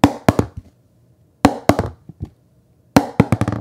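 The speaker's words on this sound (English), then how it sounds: "This is the sound of a delaminated paddle." Three bursts of sharp, hollow-sounding taps, a pickleball striking a delaminated paddle whose face has separated from the core, each burst a quick cluster of hits with short silences between.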